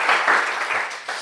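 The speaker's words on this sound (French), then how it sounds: "Vous pouvez applaudir" An audience at a talk on green business applauds, giving a short burst of steady, fairly close clapping that dips briefly and then picks back up.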